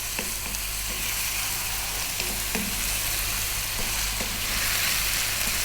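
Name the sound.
stirring beef stew spices frying in pan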